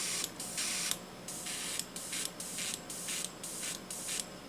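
Airbrush spraying paint and spluttering badly: bursts of broadband hiss that cut in and out in an uneven, stuttering rhythm, close and fairly quiet over a low background hum.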